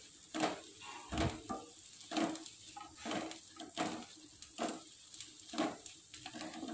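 Cooked arai keerai greens being sautéed in a pan, with repeated close scraping and stirring strokes in an uneven rhythm over a soft sizzle.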